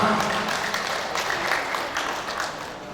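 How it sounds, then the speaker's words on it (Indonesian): Guests at a wedding reception clap together, a soft continuous patter of many hands heard from a distance, steady for the whole moment. "Tepuk tangan bersama."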